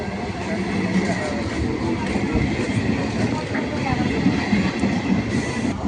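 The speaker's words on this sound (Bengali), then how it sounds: "ওই ট্রেনটা ঢুকছে বলতে বলতেই ট্রেনটা প্রবেশ করলো" A passenger train pulls into a station, a steady broadband rumble of rolling wagons and rail noise holding close and loud throughout, with faint voices in the background.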